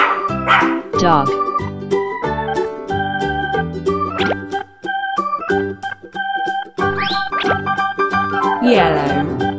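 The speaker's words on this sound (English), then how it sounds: "Dog." A cartoon dog barks in a children's toy and colours animation, short yips repeating over bright, steady music with a voice in the mix.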